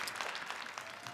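A brief burst of audience applause at an Armenian comedy evening, a dense, steady patter of clapping heard from a middle distance.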